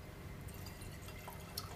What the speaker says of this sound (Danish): der vil vi hælde 125 ml vand ned i vores kolbe